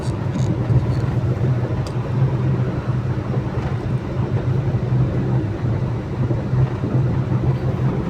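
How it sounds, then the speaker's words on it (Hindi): Traffic rumbles along a busy Delhi road, a continuous low drone of engines and wind without pause and with no voices. "ये देखो मैं आपको पीछे दिखाता हूँ ट्रैफिक"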